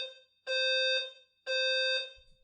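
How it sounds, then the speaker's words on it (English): A fire alarm in a building sounds two long, loud, piercing electronic tones of about half a second each, separated by a brief gap, with no speech. "I think like the fire alarm keeps going off or something, so I have to end this video because Wiggum'"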